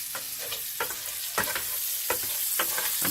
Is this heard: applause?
no